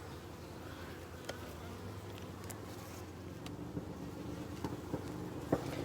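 Honey bees buzz steadily around an open hive during honey inspection, a dense continuous hum with a few faint clicks and knocks, no talking.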